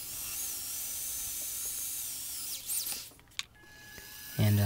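A power drill bores holes into a metal pipe cap with a steady high whine, then a few clunks and a scrape as it stops, followed by a louder burst at the end, close by with no talk.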